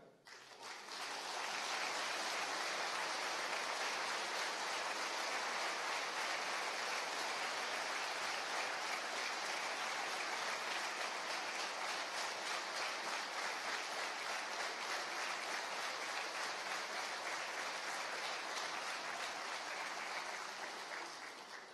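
Sustained audience applause fills a political rally in Stalowa Wola, a dense, even clatter of many hands that holds steady for about twenty seconds before tapering at the end.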